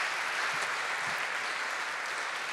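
A large audience at an economics conference applauds, a steady broadband wash of clapping that sounds somewhat distant and consistent from start to finish.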